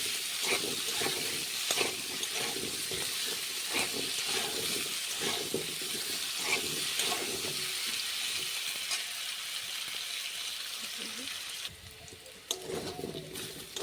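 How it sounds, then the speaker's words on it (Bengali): Potatoes frying in hot oil while pumpkin chhokka is made sound as a steady, dense sizzle with occasional stirring scrapes, close and continuous. The sizzle thins toward the end. "আলু আমার ভাজা হয়ে গেছে।"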